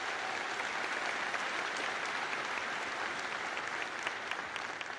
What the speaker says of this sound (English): I would like to get a round of applause for Dr. Bell for 10 years of tremendous service